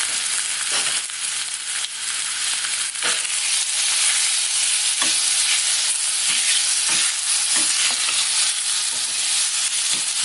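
Pork ribs frying in a pan in their own fat, giving a loud, steady sizzle with occasional soft stirring knocks, close up and with no talking.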